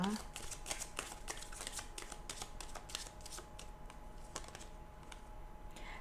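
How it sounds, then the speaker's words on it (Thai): A deck of Romance Angel oracle cards is shuffled and drawn, with quick crisp riffling clicks close by that thin out toward the end. "แม่มดขอเปิดไพ่โรแมนต์แองเจิลต่อเลยนะคะ"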